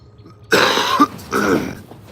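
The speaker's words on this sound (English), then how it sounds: "I had to cough." A person coughs and clears their throat outdoors in a dusty spot at sunrise, two harsh close bursts about a second apart, the first longer and rougher, the second shorter.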